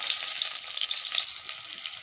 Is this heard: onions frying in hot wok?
yes